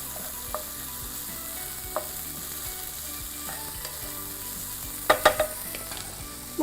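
Chicken frying in a pan for a creamy mushroom chicken dish, a low steady sizzle with occasional soft utensil clicks and a brief cluster of scraping stirs near the end, no talk.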